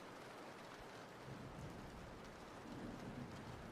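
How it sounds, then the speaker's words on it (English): Steady rain hisses throughout, with soft low rumbles of distant thunder rolling underneath, fairly faint overall. "Rain sounds with thunder."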